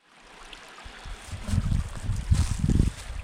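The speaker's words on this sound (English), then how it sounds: "But this is a beautiful creek, and I do love water features." Creek water rushes and gurgles over rocks close by, building in loudness with splashy bursts, heard on a Pinhoti Trail crossing without any talking.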